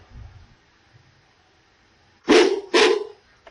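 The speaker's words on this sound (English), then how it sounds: "and the dog bark" A dog barks twice in quick succession, loud and close, after a near-silent stretch with faint low noise.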